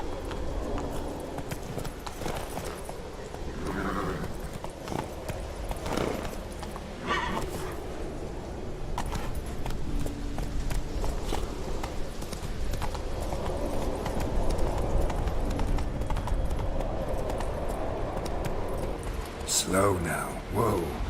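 Horse hooves clip-clop at a gallop in The Witcher 3, a steady rhythmic beat of the mount running beneath game music and ambience, with a brief whinny-like burst near the end.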